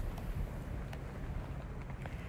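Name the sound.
strong wind blowing snow around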